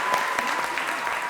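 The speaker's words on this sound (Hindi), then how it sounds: "तालियां।" Studio audience on a Pakistani TV talk show breaks into steady, close applause, a dense patter of clapping that fills the whole short moment without a break.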